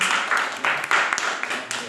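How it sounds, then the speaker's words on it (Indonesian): Applause from a class or small audience for a student named Revalina, a steady patter of many hands clapping at moderate volume with no one speaking over it. "tepuk tangan untuk Revalina"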